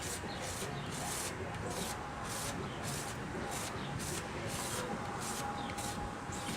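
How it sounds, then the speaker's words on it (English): Steady, rhythmic rubbing strokes of wet sanding on car paint, repeating evenly back and forth at close range. "The only other way to do it is to wet sand it."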